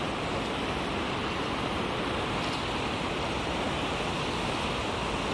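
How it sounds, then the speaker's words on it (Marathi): A farm waterfall swollen after heavy rain roars in a dense, unbroken rush of water, steady and fairly close, with no one speaking. "हे बघा सुपर आजचा धबधबा उडतो"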